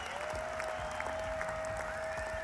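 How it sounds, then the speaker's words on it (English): An applause sound effect of dense clapping from a crowd, steady and fairly loud for the whole stretch. "That deserves a round of applause if I've ever heard one."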